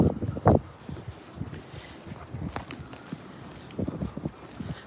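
Outdoor wind noise buffets the microphone for about five seconds, with gusty low rumble, irregular thumps and rustling rising and falling throughout, loud and close.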